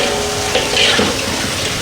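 Potatoes fry in a pan with a loud, continuous sizzling hiss, close and steady, with small bursts of crackle as they cook.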